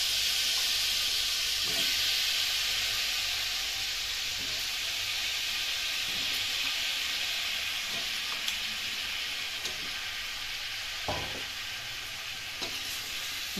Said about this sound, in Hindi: इनको हम मसाले में अच्छे से भूज लेंगे।